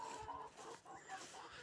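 Chickens clucking inside a henhouse, with soft, choppy, overlapping clucks and murmurs that stay faint and close throughout.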